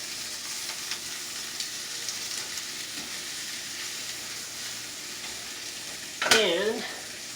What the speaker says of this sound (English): So now, I'm going to put these oranges right in the pan like that.